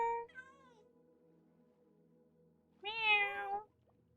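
A domestic cat gives two meows, a short one at the start and a louder, drawn-out rising and falling meow about three seconds in, close by and heard alone in a quiet indoor room.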